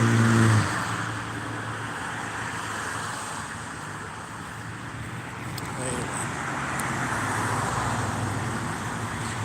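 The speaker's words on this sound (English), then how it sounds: "Traffic noise doesn't bother me." Steady city traffic noise from cars on a busy urban street, a continuous broadband roar with passing engines rising and falling, heard at moderate loudness throughout.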